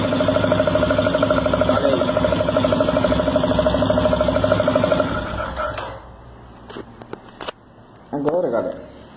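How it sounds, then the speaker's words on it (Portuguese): A Honda Factor 150 motorcycle engine idles just after an oil change, a close, steady pulsing putter that runs for about five seconds before cutting off, followed by quieter handling noises and brief voices. "Não vou cortar de giro agora porque acabei de trocar o óleo da moto"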